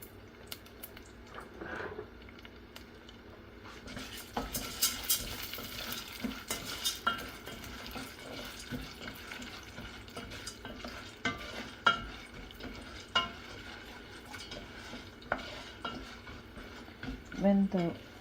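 Ragi vermicelli upma seasonings of mustard, urad dal, green chilli and onions are stirred and roasted in a pan, with a soft sizzle, scraping spatula strokes and occasional metallic clinks, fairly quiet.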